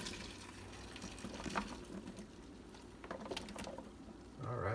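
Water running at a kitchen sink and pouring into a bowl set in a cauldron, a steady close splashing patter that swells louder near the end.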